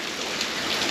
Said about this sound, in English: the rain is running us off